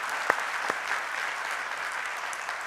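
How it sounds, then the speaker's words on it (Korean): Church congregation applauding, a dense steady patter of many hands clapping throughout, with a couple of sharper claps standing out near the start and no voices over it. "이런 분들을 위해서 한번 뜨거운 격려와 응원의 박수 보내줬으면 좋겠습니다."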